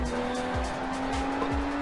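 Car tires squeal in bursts while cornering hard in the open-world action game Sleeping Dogs, with a steady engine drone running underneath and no speech.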